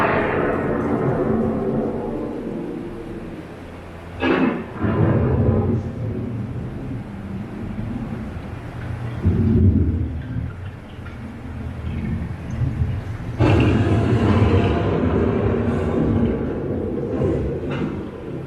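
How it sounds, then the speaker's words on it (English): Thunderstorm approaching on a dark ride through a Disney land pavilion, with deep rolling thunder rumbles swelling and fading several times over continuous low rumble, loud bursts around mid-clip and later. "The approaching storm may seem violent and destructive to us"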